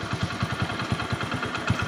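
An LPG-fuelled motorcycle engine is revved as the throttle is opened, giving a rapid, even chugging pulse close by with no voices.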